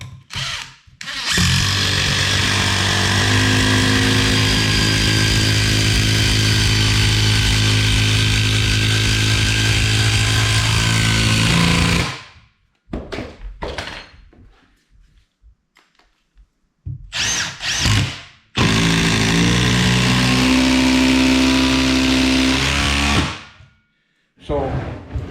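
DeWalt impact driver driving fasteners, a loud sustained buzzing hammer whine for about ten seconds, then short bursts, a pause, and another long run, close and dominant.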